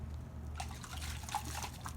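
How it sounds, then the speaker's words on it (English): Water poured onto a garden compost heap, a faint, continuous trickle with light drips and splashes under a low background hum, starting about a quarter of the way in. "all we need to do is to add a little bit of water"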